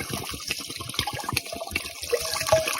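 Hot water, just short of boiling, is poured over white pine needles for tea, giving a close, continuous splashing and gurgling trickle. It runs steadily with no talk.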